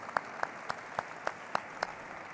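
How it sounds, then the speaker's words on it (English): Quiet, evenly spaced claps close out a bell-ringing ceremony at a stock exchange listing, about eight single sharp beats in a steady rhythm, faint and somewhat distant with no talk over them. "there's no better way to officially close the bell-ringing ceremony than with a final thunderous round of applause"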